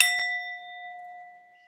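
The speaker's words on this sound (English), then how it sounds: "Let me clear the energy right quick. I'm gonna ring the bell." A single bell struck once as an energy-clearing ritual, its bright ring sustaining clearly and fading slowly, alone with no talk.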